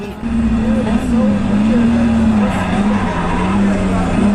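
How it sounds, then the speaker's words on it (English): A car skidding on locked brakes during a street race against an RX8, a loud sustained tire squeal wavering in pitch over engine noise, heard close up from start to finish. "I locked the brakes!"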